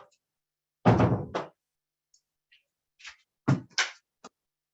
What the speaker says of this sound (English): I'm going to jump up just a second and close my office door.